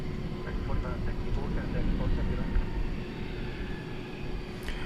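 A Cathay Pacific airliner takes off at night from DFW Airport on a long-haul flight to Hong Kong, a steady broad engine roar held at a distance, with a voice talking over it.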